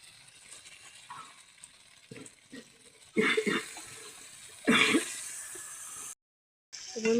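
Chicken meat is tipped into a hot pan, two loud bursts of sizzling splatter rising out of a quiet kitchen and fading into a steady fry.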